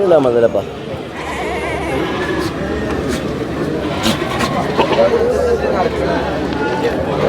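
Goats bleating amid a crowded goat market at Chattiparamba during a festival, with loud continuous crowd chatter and nearby voices around scattered bleats, and occasional vehicle noise.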